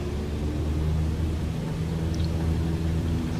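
A light aircraft engine runs at full throttle during the takeoff roll at EGBW aerodrome, a steady, loud, close droning roar with a deep harmonic hum that holds constant throughout, with no voices.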